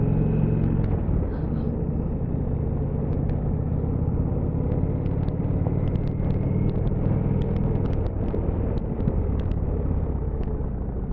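Engine of a 2019 Indian Chieftain motorcycle on a short test ride, a steady loud low rumble with road and wind noise throughout, holding an even drone without clear shifts.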